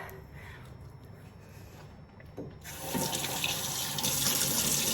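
A bathroom tap starts running into a sink for washing a face, a quiet lead-in giving way to a loud, steady hiss of flowing water close by.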